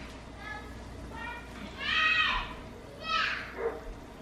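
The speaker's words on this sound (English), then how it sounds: "What's the dog barking at still?" A dog barks outside in the yard of a family homestead, giving a few short, moderately distant barks against a quiet background.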